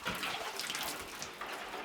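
Water sloshes and splashes in a near-freezing ice bath, a close, continuous churning wash of liquid movement with no talk over it.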